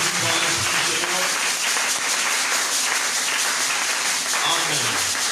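A church congregation at a healing seminar applauds and cheers in a dense, continuous wash of clapping, with voices calling out through the crowd noise.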